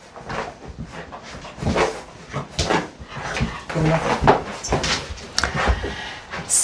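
Wet dog during a home bath, whimpering, shaking and splashing close by in irregular bursts, with some movement and faint human sounds around.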